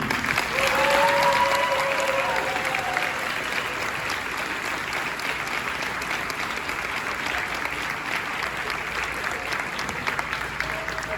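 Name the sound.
audience applause for students at awards night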